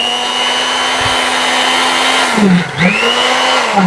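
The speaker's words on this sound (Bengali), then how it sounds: "এই যে দেখেন অত্যাধুনিক মানের বিদ্যুতের মেশিন আছে আমাদের কাছে" Electric oil extraction pump drawing oil from a drum, a loud steady motor whine that dips and rises briefly near the end as its speed changes.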